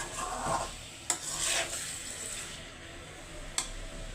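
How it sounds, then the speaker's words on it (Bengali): New potatoes fry in a pan for aloo bhaji, a steady close sizzle with soft stirring scrapes and a couple of sharp utensil clicks against the pan. "আলু ভাজি করে নিচ্ছি।"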